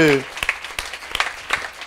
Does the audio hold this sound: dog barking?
no